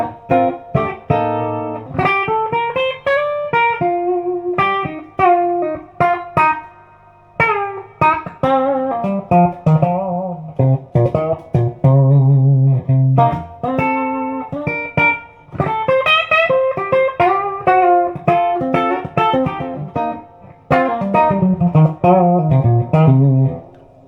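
Electric guitar played through a Fender Blues Deluxe amp with reverb and added presence, a clean, ringing melodic run of single notes and chords, loud and close with no talking.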